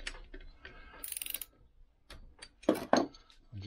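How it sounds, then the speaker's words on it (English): Battery-powered socket wrench working on a Lambretta scooter engine during a rebuild, giving a few short bursts of mechanical ratcheting and clicking between quieter gaps, close and fairly faint. "I'm just going to use the socket to get that."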